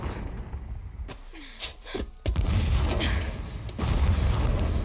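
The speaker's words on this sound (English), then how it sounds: "The blasting should cover any noise you make." Explosive blasting in the Horizon Zero Dawn video game, with heavy booming bursts and a loud rumbling roar that swells and stays dense throughout.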